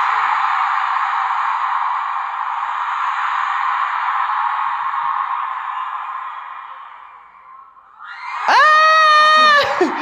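A long steady roar of noise fades, then a sharp, loud, high scream from people rings out near the end, alone and close.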